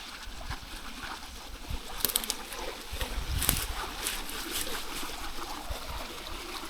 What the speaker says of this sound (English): a nice little creek